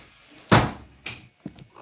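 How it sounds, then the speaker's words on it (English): A loud bang as a window is shut at close range, followed by a few softer knocks and rattles. "I got to close my window"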